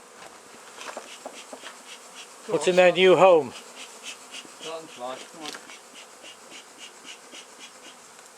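Honey bees swarm and buzz around a nuc box at the Anson Engine Museum as they are moved in. A continuous insect drone swells into a loud close buzz midway, with a person speaking briefly.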